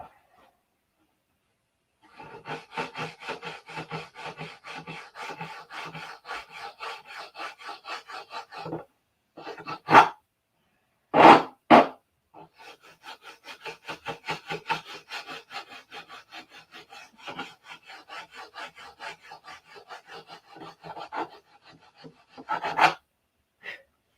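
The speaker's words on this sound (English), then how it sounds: "So much detail sanding to do." Steady rhythmic scratchy rubbing of sandpaper on wood by hand on a P-47 airplane build, close up, with brief pauses and a few sharper knocks in between.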